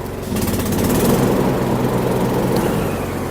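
Small engine of a STIHL RT 4082 garden tractor with hydrostatic transmission runs steadily and close up, a continuous droning rumble with no speech over it.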